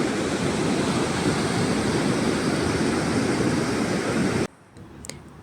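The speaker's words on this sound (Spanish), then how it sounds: "disfrutando de la tranquilidad que nos brinda el océano y el sonido de las olas" Ocean surf rolls onto an empty beach north of Lima, a loud, continuous wash of breaking waves that cuts off abruptly near the end, leaving faint wind.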